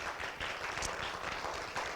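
A church congregation applauds together, a soft, steady patter of many hands clapping at a distance, faint and even throughout.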